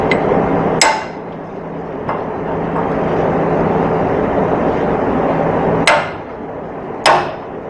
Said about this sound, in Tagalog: Pakuha ako martilyo.